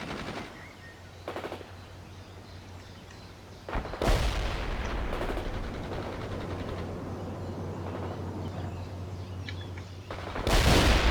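Gunfire rattles through a World in Conflict battle: several short bursts stand out against a steady low rumble, with the loudest bursts near the start, around four seconds and at the very end.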